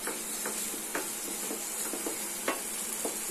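Whisked eggs are stirred into a frying masala curry in a pan, with a soft steady sizzle under repeated light scraping strokes of the spoon, faint and close.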